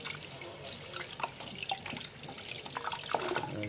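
Water running from a kitchen tap while baby octopus is washed, a steady close splashing stream with irregular drips and sloshes as the seafood is handled under it.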